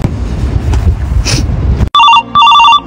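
A telephone rings with two loud, close electronic bursts of warbling tones, which start sharply after a stretch of muffled, noisy background.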